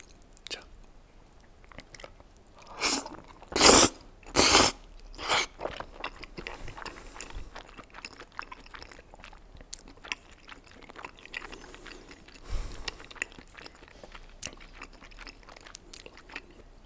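Close, crunchy bites and chewing of tteokbokki mixed with jjajangmyeon, with a loud burst of crunching early on, then softer mouth sounds and quiet chewing that carry on throughout.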